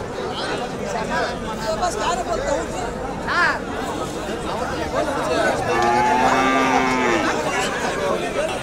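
Buffaloes moo at a busy Friday cattle market in Kundarapalli, Krishnagiri district, with one long, close, drawn-out low call rising over a steady background of crowd chatter and people talking.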